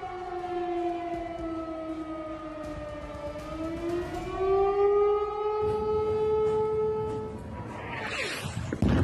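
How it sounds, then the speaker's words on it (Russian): Air-raid sirens warn of missile danger across the Belgorod region in the early morning. A loud, sustained wail slowly rises and falls in pitch for several seconds, then gives way to a burst of broadband noise at the end. "Ранним утром над всей территорией Белгородской области взвыли сирены о ракетной опасности."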